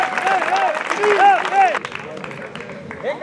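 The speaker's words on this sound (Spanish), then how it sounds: "fuerte el aplauso para el campeón categoría menores de la temporada 2023" Crowd applause for a junior-category champion at an equestrian festival in Flores, broad steady clapping with a voice speaking over it, easing after about two seconds.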